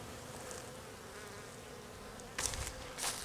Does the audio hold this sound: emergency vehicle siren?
no